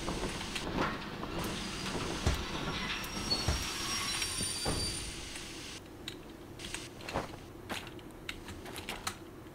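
Train running in the Derail Valley video game with a steam locomotive, a steady rolling rumble and rail noise throughout with scattered clicks and clanks over it, no talking.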